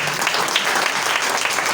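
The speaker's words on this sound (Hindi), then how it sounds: "इसके लिए ज़ोरदार ताली बजाएं।" A church congregation breaks into brief, dense applause, many hands clapping loudly and evenly for under two seconds, close and full.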